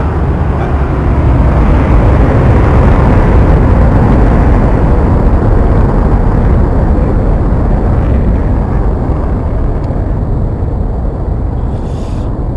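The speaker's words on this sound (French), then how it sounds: "L'avion qui décolle, on dirait, qui atterrit, qui passe." Su-25T jet aircraft in a flight simulator game, engine roaring loud and steady as it takes off and passes, a broad rumbling wash that eases slightly toward the end, with no talking.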